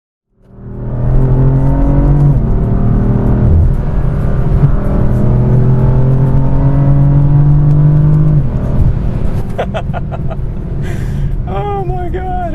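A BMW M4 engine revs hard and accelerates, a loud sustained roar climbing in pitch and then dropping away, followed by sharper revving bursts near the end.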